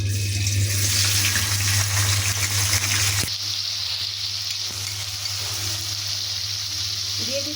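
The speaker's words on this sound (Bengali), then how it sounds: "আমি দিয়ে দিছি ফ্রোজেন করে রাখা পেঁয়াজ।" Frozen onions hitting hot oil in a pan on an old stove, a loud hissing sizzle at first that settles into a steadier, softer frying crackle.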